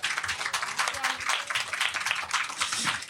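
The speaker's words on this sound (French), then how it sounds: "Merci, vous pouvez les applaudir." An audience at a small media-diversity talk applauding, a dense steady patter of many hands clapping at moderate loudness for a few seconds, with some voices mixed in.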